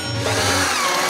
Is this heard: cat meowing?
no